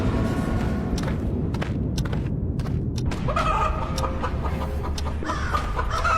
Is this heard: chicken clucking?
yes